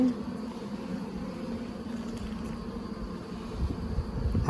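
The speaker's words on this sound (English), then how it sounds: "See how all these nurse bees are around her?" Honeybees, nurse bees crowded around the queen on a frame from a nuc hive, hum in a steady, close, continuous drone with no voices over it.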